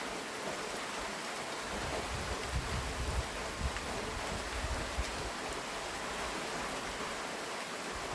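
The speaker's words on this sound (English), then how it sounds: "This is rain coming down the vine." Steady rain running down a vine outdoors, a dense even wash of hiss with faint scattered drips throughout, no voices.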